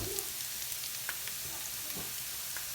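Food left to cook in a pan for a rice dish with chicken, cream and curry, giving a quiet, continuous sizzle with faint crackles and no talking.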